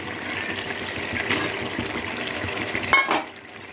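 Minced mutton keema tipped into softened tomatoes in a hot pan, a steady low sizzle and stirring hiss with a couple of sharp clinks of utensil on metal, no voices.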